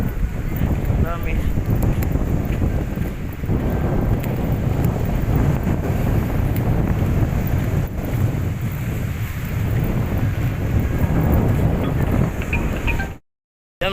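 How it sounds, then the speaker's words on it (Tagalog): Strong waves surge onto Manila Bay's Dolomite beach amid heavy wind buffeting the microphone, a loud continuous roar of surf and gusts that cuts off abruptly at the end. "pakita natin sa inyo yung mga lumalakas yung alon dito ngayon"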